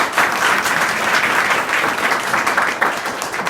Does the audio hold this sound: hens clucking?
no